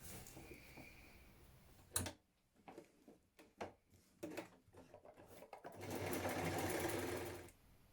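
A sewing machine stitches buttonholes into a trouser waistband, its soft clicks and handling noises giving way to a steady mechanical whir for a couple of seconds near the end; no one speaks.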